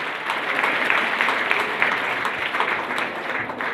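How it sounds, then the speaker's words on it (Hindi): Audience applause at a Sindhi community women's honour ceremony, a loud, steady wash of many hands clapping close by, continuous for the whole stretch with no talk over it. "अरे जोरदार ताली बजाओ आप"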